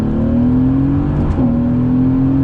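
A Mercedes-Benz AMG GT coming back on throttle out of a left-hand bend, its engine note loud and close with a steady, rising drone and a brief dip partway through.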